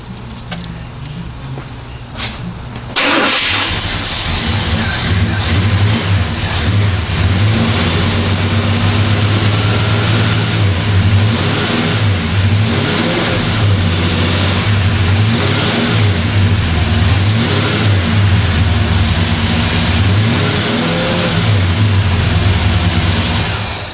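A Chevrolet C10 square body pickup engine fires up on its first start after a rebuild and keeps running loud and close, a steady rumbling idle rising into repeated revs for over twenty seconds.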